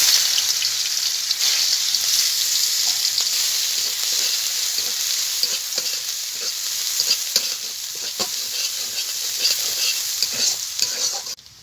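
Chopped onion fries in hot oil for ghugni, a loud steady hissing sizzle that runs throughout with occasional stirring scrapes and small pops, fading slightly at the end.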